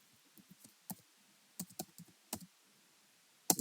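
Keys on a computer keyboard are tapped in short, scattered bursts of quiet, crisp clicks with gaps between them, ending in a sharper cluster of keystrokes.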